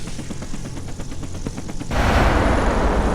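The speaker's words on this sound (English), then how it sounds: "actually let's use the rockets" A helicopter fires a rapid string of rockets at a tank in the video game War of K, a quick pulsing volley followed by a loud sustained roar of impact and explosion.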